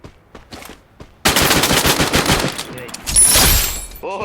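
Rapid automatic gunfire from the Free Fire battle royale game, loud dense bursts of shots filling most of the clip after a quieter start, with a sharper high-pitched effect near the end.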